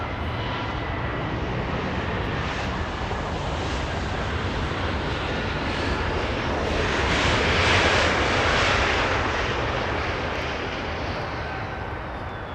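Delta Airlines Airbus A220 jet at Los Angeles International Airport, a steady loud engine roar heard from outside that swells slightly as the plane passes, with no talk over it.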